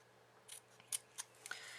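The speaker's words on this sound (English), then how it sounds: "I'm trimming in on each score line that I just made from my folding." Scissors trimming into folded card stock along score lines, four or five short crisp snips spaced unevenly across a couple of seconds, close and faint over a quiet background hum.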